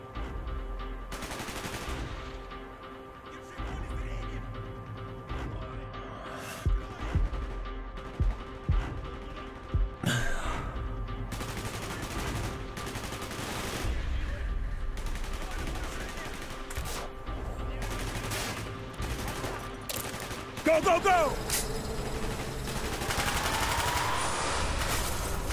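Bursts of automatic and single-shot gunfire from the Call of Duty: Black Ops campaign on Xbox 360, sharp cracks and rattling volleys repeating through a busy battle soundscape, loud and close, with voices shouting now and then.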